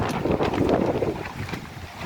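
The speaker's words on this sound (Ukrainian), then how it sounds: "Вітер дуже сильний." Strong wind buffets the microphone in a steady, loud roar with gusty swells, no voices.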